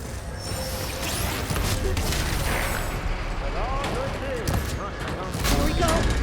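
Enemy gunfire in Horizon Forbidden West: a dense, continuous barrage of shots and impacts layered with game effects, with someone talking over much of it.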